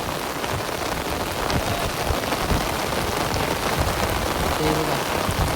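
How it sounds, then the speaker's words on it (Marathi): Heavy rain pours down in a dense, steady roar of drops striking surfaces, loud and unbroken from start to finish. "पाऊस आलाय मोठा"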